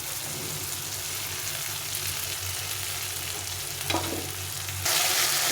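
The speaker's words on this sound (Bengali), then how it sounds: "এখন এই মশলাটা তরকারির মধ্যে দিয়ে দিই" A ground paste of ginger, cumin and chili goes into a Bengali fish curry frying in the pan, giving a steady sizzle under a low hum, a brief scrape near the end and then a louder, brighter burst of frying.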